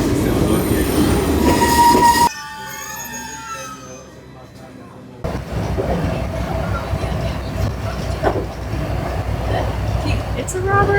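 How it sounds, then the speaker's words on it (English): A train ride in Nagano, Japan: a rolling rumble with squealing wheels and rail clatter, easing into a quieter, smoother stretch before the louder rush resumes, with faint voices in the carriage. "so it's going to be about a 22 to 30 minute train ride"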